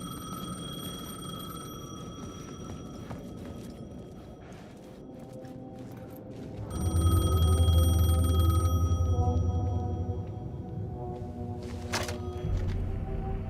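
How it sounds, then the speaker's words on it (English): A payphone rings in Alan Wake 2, its tonal electronic bell sounding in repeated bursts over a dark, droning ambience that swells into a heavy low rumble midway, with footsteps and scattered clicks. "The payphone was ringing."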